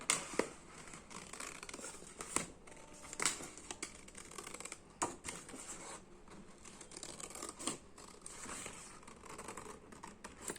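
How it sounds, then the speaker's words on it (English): Scissors poke into card and cut out a square window, giving quiet, close snips and crisp paper crackles in an irregular series of sharp clicks over a soft background. "just poke the scissor and then just cut this square."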